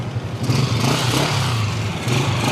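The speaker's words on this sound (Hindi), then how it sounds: "और बाइक खड़ी है, स्टार्ट साउंड सुने।" Metro 125 motorcycle standing parked as its engine starts and runs, a close, rough, clattering putter with a slight rise in revs, heard alone without talk.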